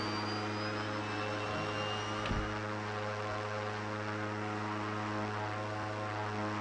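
An aircraft in Airport Master takes off at full power with a loud, steady engine roar and whining tones, plus one brief low thump partway through, heard alone and without voices.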